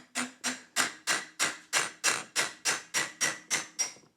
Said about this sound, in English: take a hammer and move this stuff out of the way and tap it out